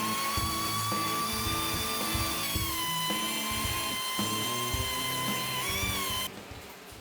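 An angle grinder and orbital sander whine continuously at a high pitch with shifting tone, grinding and sanding a white oak live edge slab, then cut out near the end.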